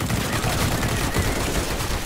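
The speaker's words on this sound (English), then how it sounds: "Stop shooting!" Continuous dense gunfire from the video game CS:GO, loud and close, forming a sustained rattling burst of rapid shots with no break for the whole stretch.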